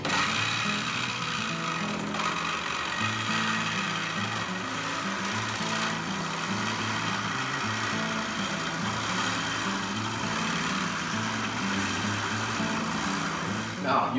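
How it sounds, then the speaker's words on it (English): A reciprocating saw cuts through the steel A-post of a 1966 Chevrolet C10 truck cab with a steady, loud, buzzing rasp that runs unbroken and close throughout. "this is the last cut on this A-post. You're gonna notice the Sawzall is gonna come out below the line."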